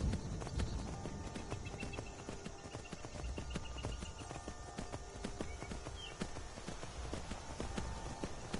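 Horse hooves clip-clop steadily in Skyrim, a continuous rhythmic stream of footfalls at moderate level over a low game ambience, with no talking.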